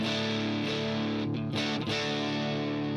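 Electric guitar recorded through an amp plugin, a steady sustained distorted tone with rich harmonics, briefly chopped by a couple of quick strum or pick changes midway, played alone without talk.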